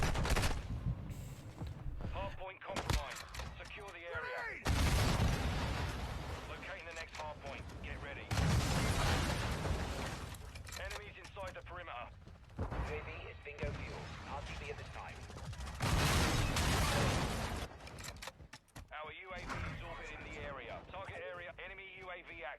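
Gunfire, fusillades and explosions from the video game Call of Duty Modern Warfare 2, with loud dense bursts of shooting and booms alternating with someone talking over the action throughout.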